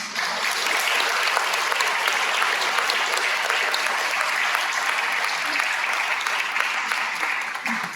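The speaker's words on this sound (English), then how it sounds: "I'm going to ask that we give another round of applause for our legal heroes." Sustained applause from an audience following closing remarks at a panel event, dense steady clapping from many hands that holds evenly for several seconds at close range before easing slightly at the end.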